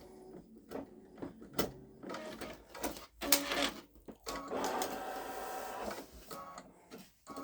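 A Babylock Solaris 3 embroidery sewing machine stitching an Easter design, giving a busy mechanical whirring and clatter that surges and pauses in short bursts, fairly close and with no talk.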